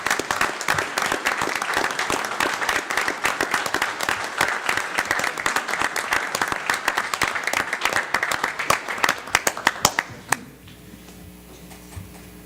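Audience applause at a township board of commissioners business meeting: dense, steady clapping from a roomful of people for about ten seconds, thinning to a few scattered claps before stopping abruptly into quiet room tone.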